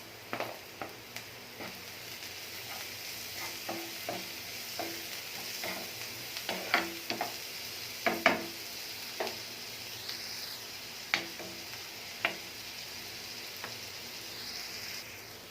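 Ginger garlic paste sizzles and fries in a hot pan for mushroom gravy, with steady crackling under repeated stirring scrapes and taps, close and fairly loud with no talking.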